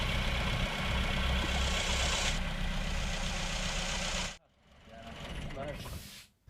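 A 2009 Suzuki Grand Vitara engine idles nearby with a steady rumble and the radiator cap open, then the sound cuts abruptly and a quieter, muffled engine hum follows.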